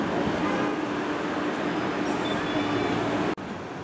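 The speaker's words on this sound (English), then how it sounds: "Boston tram." A tram passes near a Washington Street station in Boston, a steady loud rail rumble with a faint high wheel squeal that drops off sharply near the end.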